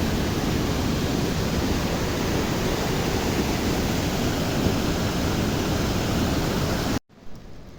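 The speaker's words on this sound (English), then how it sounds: "The flow and the current of water" Dense mountain spring water rushing along a trail in the Annapurna hills of Nepal, a loud steady hiss of flowing current that cuts off abruptly near the end, leaving faint background.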